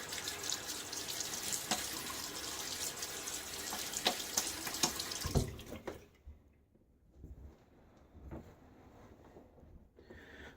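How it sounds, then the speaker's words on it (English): Water splashes and runs close by for several seconds as it is splashed onto a face during a wet shave, then stops, leaving a few quiet drips and small movements. "splash my face"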